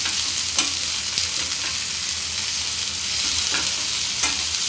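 Bitter gourd shallow-fries over a low flame, giving an even, continuous sizzle throughout, with a few sharp clicks of a spatula or utensil against the pan.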